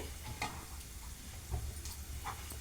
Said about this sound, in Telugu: ఇవి కూడా మంచిగా ఒక 2 నిమిషాలు మనము ఫ్రై చేసుకోవాలి.